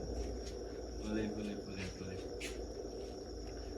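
Crickets raised on a cricket farm keep up a dense, steady chirping that fills the whole stretch, with brief louder chirps standing out and quiet talk underneath.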